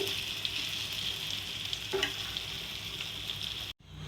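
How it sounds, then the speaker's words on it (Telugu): Stuffed brinjal frying under a lid in a covered pan gives a steady, soft sizzle and crackle throughout, with a faint clink near the end. "ఇది గుత్తొంకాయ మళ్ళీ మూత పెట్టేసుకుని ఇంకొక సేపు ఇందులోనే మగ్గనివ్వాలి."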